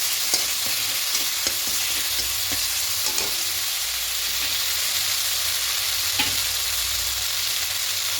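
Lentils (biulir dal) sizzle loudly as they are stir-fried in a pan with a little water and asafoetida, a dense continuous hiss broken by periodic spatula scrapes and taps.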